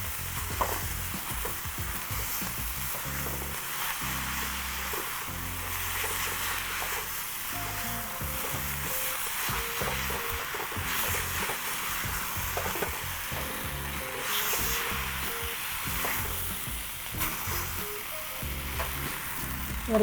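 Chinese noodles are stir-fried and tossed with sweet soy sauce and vinegar, producing a loud, sustained sizzle with repeated scraping and clattering of the pan over twenty seconds.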